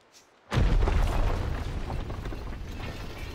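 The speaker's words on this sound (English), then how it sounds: "What was that explosion?" A sudden deep boom erupts in the Ni No Kuni II video game, followed by a sustained loud rumbling roar that slowly fades, with no voices over it.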